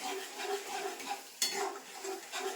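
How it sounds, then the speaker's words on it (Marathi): Chicken being stirred with dark soy sauce in a pan, a spoon scraping and clinking against the metal in a steady repeated rhythm, close and fairly quiet, with one sharper knock partway through. "आणि व्यवस्थित मिक्स करून घेणार आहे."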